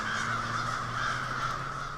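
A huge roost of crows, some fourteen to fifteen thousand birds circling overhead at dusk, caws in a dense, continuous clamor that stays loud and steady with no voices.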